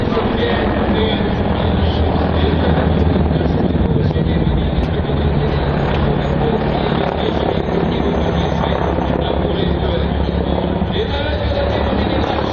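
A Mi-35D attack helicopter flies at the MAKS 2017 air show, its rotor and engine roar loud and continuous throughout, with a commentator talking over it.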